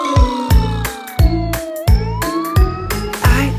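A wailing fire truck siren rises and falls over a steady rhythm of heavy low thumps, loud and close, with no voices.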